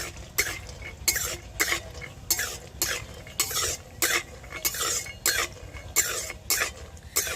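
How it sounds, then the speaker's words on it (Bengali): Peanuts frying in white oil in a wok, with a steady rhythm of scraping stir strokes over a faint sizzle and the odd clink of a utensil, nobody speaking. "তো প্রথমে আমি এই চীনাবাদামটাকে একটু ভেজে নেব।"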